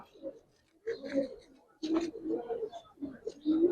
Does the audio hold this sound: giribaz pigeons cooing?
yes